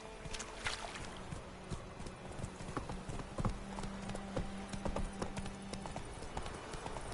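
Roach, Geralt's horse in the video game The Witcher 3, trots along with rhythmic clip-clopping hooves, moderately close and fairly quiet, alongside ambient game sounds.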